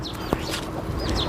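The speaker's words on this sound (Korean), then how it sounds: "병아리 소리 들리시나요?" A newly hatched black chick peeps in a chicken coop beside its white mother hen. There are a few thin, high peeps over low clucking and quiet farmyard background.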